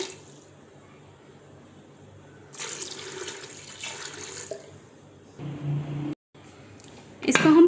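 Water pours steadily into a cooking pot for beef yakhni pulao, in several bursts of hissing, splashing flow that stop and start, close and fairly loud, with a final louder splash.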